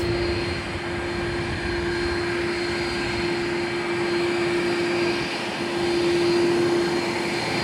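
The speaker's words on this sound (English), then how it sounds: "Got the Iberia flight 382 heading to Madrid on an A330-300" An Iberia Airbus A330-300 jet on the takeoff roll from runway 8 gives a loud, steady, broad engine roar with a sustained whining tone that swells slightly toward the end.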